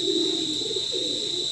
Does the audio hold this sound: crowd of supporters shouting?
no